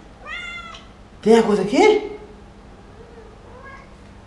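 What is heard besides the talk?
cat meowing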